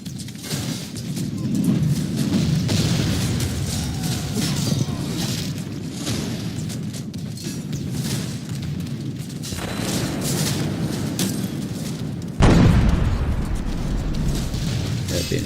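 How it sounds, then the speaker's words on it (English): Mortar and cannon fire in a siege of Weimar during a 1648 Thirty Years War game produce low, rumbling booms and a dense battle din, with one sharp, loud blast late on and a voice speaking over it. "Been hit by mortar fire."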